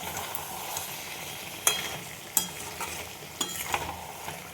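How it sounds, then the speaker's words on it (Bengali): Chicken being stirred and slowly sautéed in a pan over low heat, with a steady soft sizzle and occasional sharp scrapes and clicks of the spoon against the pan, close up with no talking. "এইভাবে আর কিছুক্ষণ কষিয়ে নেব"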